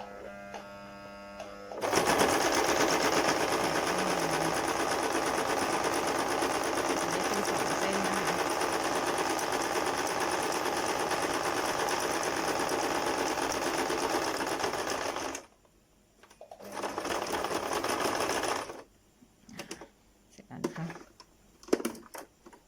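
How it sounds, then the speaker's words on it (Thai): A sewing machine stitches a clear plastic homemade face shield: a long, loud, steady mechanical whir, then shorter bursts and stops near the end, with brief speech early on. "อีกด้านหนึ่งเราก็จะมาเย็บ ต่อด้านนี้นะคะ"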